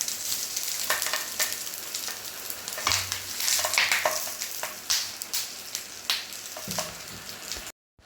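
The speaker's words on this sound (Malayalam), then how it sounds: "നമുക്ക് ചെറുതായിട്ട് എണ്ണ ഒഴിച്ചതിന് ശേഷം നമ്മൾ ഇവിടെ തയ്യാറാക്കി വെച്ച ഇലയിൽ കെട്ടി വെച്ച അയല നമുക്ക് പാനിലേക്ക് വയ്ക്കാവുന്നതാണ്." Mackerel wrapped in banana leaf fries in a lightly oiled pan, giving a steady crackling sizzle with scattered sharper pops and spits, close and fairly loud, no voices.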